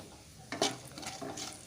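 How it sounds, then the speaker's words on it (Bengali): Whole spices for a tempering fry in oil in a pan over a low-to-medium gas flame, with a quiet sizzle and a few stirring scrapes and clinks, faint and close. "এই সময় লো টু মিডিয়ামে রেখেই ফোড়নটা ভাজছি"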